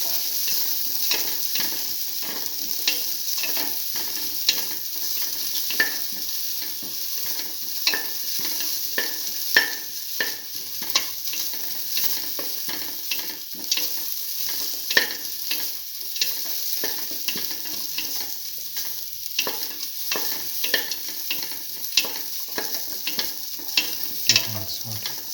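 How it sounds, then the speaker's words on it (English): Onions and shallots sizzle and fry steadily in a pan, with a constant bright hiss broken up by frequent scraping clicks as they are stirred over about 25 seconds. "The onion and the shallots are nicely roasted"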